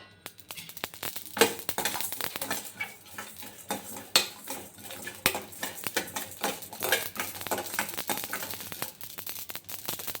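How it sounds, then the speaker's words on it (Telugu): Whole spices roast on low heat in a pan for mushroom curry, with frequent close metal clinks and scrapes from stirring over a faint sizzle. "సిమ్లో పెట్టుకొని మసాలాలన్నీ వేయించుకోవాలి."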